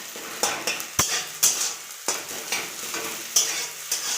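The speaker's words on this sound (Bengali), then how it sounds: "বেশি কড়া করে ভাজবো না, এমনি হালকা ভেজে নেব। কুচি কুচি করে নেব খুন্তি দিয়ে।" An egg frying lightly in a pan for a chow mein egg roll, chopped up with a spatula: a soft sizzle under a run of sharp metallic scrapes and taps, roughly two per second, close and fairly quiet, with no talk.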